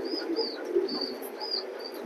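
Racing pigeons, including a red-eyed hen, coo softly with a few brief chirps over steady low background noise. The calls are close and gentle, and some recur at intervals.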